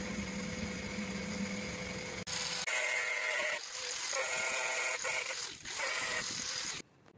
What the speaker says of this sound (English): I've turned the light off and I've left the grinder running.